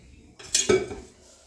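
A small metal tadka pan being handled on a home stove as oil goes in, a brief clatter and clink of metal lasting under a second, close and fairly loud, with no talk.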